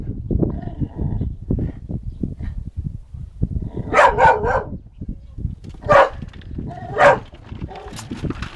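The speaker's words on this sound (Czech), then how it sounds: "Pejskové štěkají, vy." Several dogs barking in short, loud bursts against steady background noise and clatter, with the barks coming in clusters, near a chicken coop.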